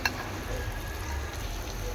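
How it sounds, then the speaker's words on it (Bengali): Food fried and stirred in a pan over the fire, a quiet, continuous sizzle with faint stirring scrapes and no voices. "ভাজা ভাজা করবো"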